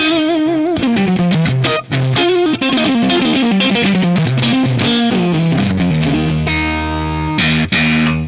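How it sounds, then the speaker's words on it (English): An electric guitar played through a fuzz pedal, loud and saturated, with a busy run of distorted notes that settles into sustained, buzzing held chords near the end, with no talk. "So that's how I like to use a fuzz"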